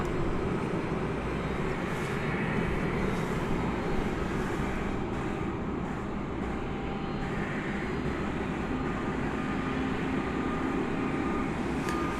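Jet airliner taking off from runway 18 left at DFW Airport at night, heard as a steady, loud broadband engine roar that holds without a break, with no voices over it.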